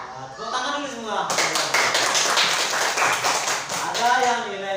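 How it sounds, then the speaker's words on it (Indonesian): Schoolchildren in a classroom clap together for several seconds in a dense burst, with a teacher's voice speaking before and after the applause. "Nah, tepuk tangan dulu semua."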